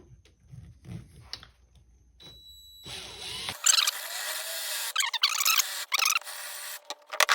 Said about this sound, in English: I'm gonna use this 35 millimeter Forstner bit.